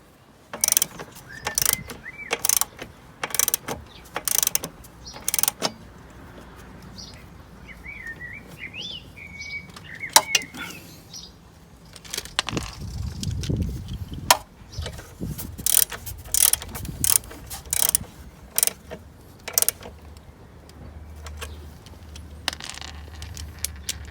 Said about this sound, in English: now it's a simple matter of tightening these nuts down.